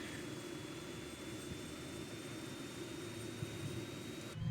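A helicopter engine spins up in a flight simulator game set around the Mount Saint Helens crater, a steady, faint turbine whine and roar with a thin high tone held throughout.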